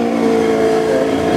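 Loud, close engine roar from a race car at a Festival of Speed event, a sustained harmonic drone held steady through a brief pass.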